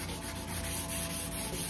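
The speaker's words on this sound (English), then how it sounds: "So I'm just really sanding as much as I can." Scotch pad sanding rotten, weathered wood by hand, a steady close scratchy rubbing with repeated back-and-forth strokes and no talking.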